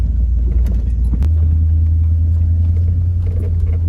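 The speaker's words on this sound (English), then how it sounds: "That is the drive shaft. That's exactly what that noise is." A Jeep's drive shaft makes a steady, heavy low rumble and drone while driving, a continuous road-vehicle hum that deepens slightly partway through, loud and close with no talking.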